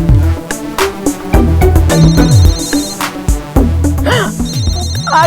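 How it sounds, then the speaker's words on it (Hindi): A phone ringtone plays loudly and close, a bright melodic electronic tune with repeating chimed phrases and falling tones that keeps going for the whole stretch. "आ गया गरीबों का फोन।"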